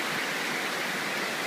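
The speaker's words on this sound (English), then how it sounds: "And there's the water coming out." Heavy Florida rainwater pours outside in a continuous rushing splash like a small waterfall, a dense, steady hiss with no break and no voices over it.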